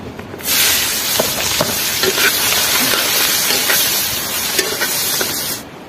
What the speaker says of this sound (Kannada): ಸೊ ಇವಾಗ ಆನಿಯನ್ನ ಫ್ರೈ ಮಾಡ್ಕೊಳ್ಳೋಣ